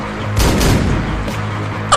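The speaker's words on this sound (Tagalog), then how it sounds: "Takbo, may baril!" Gunfire breaks out in a house during a confrontation: a loud burst of several close, booming shots in quick succession, followed by ringing rumble and another sharp report at the end.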